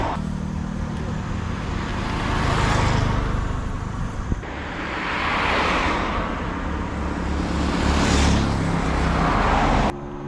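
Vehicles pass one after another on a road in Thailand, each a rising and fading whoosh of tyres and engine close by, about three passes with quieter roadside noise between, no talking.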